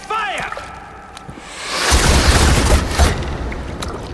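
Siege weapons loose a volley in Assassin's Creed Valhalla: after a quiet stretch with a brief voice near the start, a loud, heavy roaring rush of launches and booms swells and holds for several seconds.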